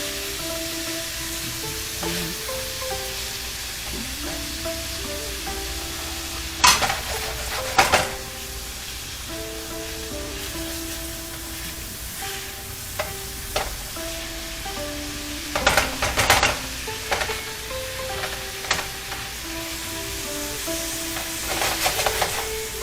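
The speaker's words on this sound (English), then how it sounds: "So the vegetables have been sauteing for a few minutes." Vegetables for red curry pork sizzle steadily in a pan, a continuous frying hiss with occasional louder bursts of stirring and utensil scrapes, and a faint melodic background tone running underneath.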